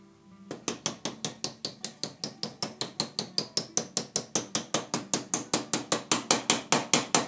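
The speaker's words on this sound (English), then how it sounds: "I'm just going to give a gentle tappity tap tap on." Gentle tapping on a bushing of a 1984 Honda VF750F carburettor: a long, even series of small, sharp metallic taps, close and fairly quiet, about four to five per second, slowly getting a little louder.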